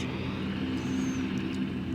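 A steady jet engine roar from a private jet aircraft, fairly distant, with a constant low rumble and faint higher whine throughout.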